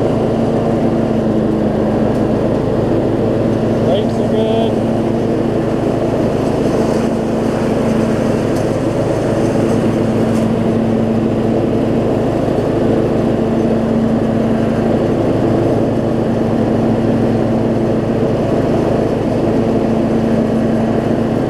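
A Craftsman riding lawn mower engine runs steadily at a constant throttle, a loud, even droning hum with no one speaking.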